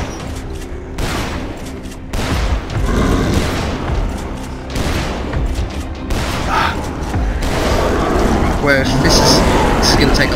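Repeated shotgun blasts go off in Dead Island Riptide, loud booming bursts scattered across a dense, noisy mix of game action, with talk running over them throughout.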